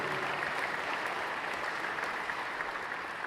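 Gala audience at an American Liver Foundation event gives a sustained round of applause, a steady wash of many hands clapping at moderate distance.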